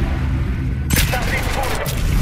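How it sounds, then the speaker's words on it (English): Gunfire bursts out of a turret in the video game Titanfall 2, a sharp loud onset followed by rapid rattling shots and booms, with game voices talking over the firing. "In position. Activating turret."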